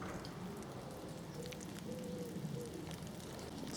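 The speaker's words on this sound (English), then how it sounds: "there's a hailstorm going on outside me" Hail patters on the canopy and ground of ancient woodland in winter, heard from inside the wood as a faint, continuous rattling hiss with occasional soft bird calls.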